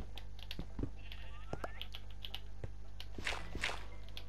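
Minecraft sheep let out a couple of faint, brief bleats within a quiet game scene, mixed with light keyboard clicks and taps scattered throughout.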